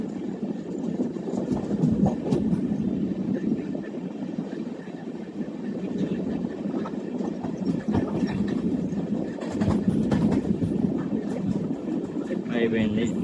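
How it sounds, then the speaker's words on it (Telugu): The Simhadri Express, an LHB-coach passenger train hauled by a WAG-9 HC electric locomotive, rolls along its line near a lake beside a national highway, a steady loud rumble of wheels on track with periodic clatter throughout, heard from on board under a voice. "సో ఇక్కడ మన ట్రైన్ ఇట్లా కదులుతుంది."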